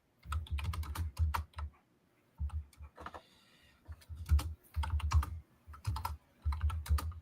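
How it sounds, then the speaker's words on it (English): Rapid keystrokes clatter on a computer keyboard close up, arriving in bursts of quick clicks separated by short pauses, with no voices present. "I can hear it typing right now."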